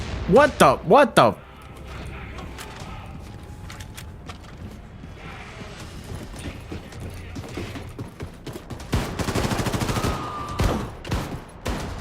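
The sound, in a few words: gunfire in the video game Akimbot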